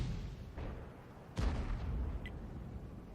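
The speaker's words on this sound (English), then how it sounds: "Now, he fired that one speculatively, I think." Tank guns fire in a tank video game with an SU-14-2 self-propelled gun, a faint distant boom followed by a sharper, heavier blast with a rumbling tail, alone without talk.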